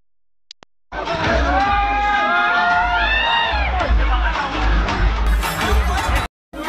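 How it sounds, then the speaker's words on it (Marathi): A dense crowd at an agricultural festival roars and cheers while waiting to see Bakasur, with whoops, whistles and yelling children over a constant loud hubbub of voices, cutting out briefly near the end. "बाकासूरला बघायला गर्दी बघ किती आहे."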